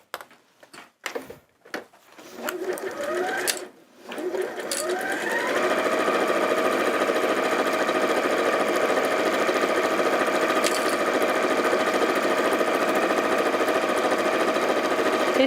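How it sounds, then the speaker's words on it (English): Sewing machine stitching along two raw fabric edges: a few scattered knocks and short bursts at first, then a steady continuous mechanical whir running to the end. "we're simply just going to sew along those 2 raw edges"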